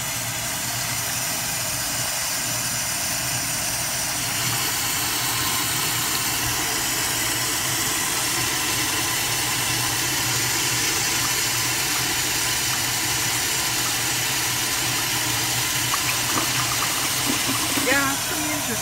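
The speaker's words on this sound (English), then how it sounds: "standard Cadet right here, flushing on a garden hose pressure" A standard Cadet toilet flushes on garden hose pressure of about 60 PSI, a steady broadband rush of water that holds for the whole stretch and ends in a few faint clunks.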